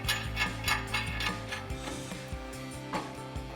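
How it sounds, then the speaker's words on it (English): A ratchet clicks rapidly and rhythmically, close up, as a lug nut is run down onto the wheel hub of a Ford F-150 during a suspension lift install, with brief pauses between bursts. "I'm actually gonna use one of our lug nuts just to hold it tight against the hub."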